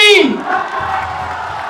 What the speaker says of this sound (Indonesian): Tepuk tangan untuk Ustaz Gifani